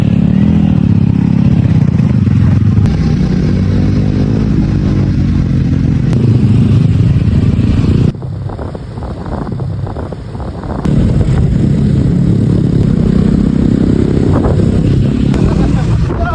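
A scooter rides along a road near Mussoorie, Uttarakhand, with a steady low engine drone and buffeting wind noise. The sound drops briefly midway, and a voice talks over parts of it.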